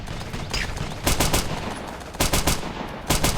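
Bursts of automatic gunfire from a war video game set in a beach assault, arriving in three loud clusters of rapid shots over a constant battle background, with no talking.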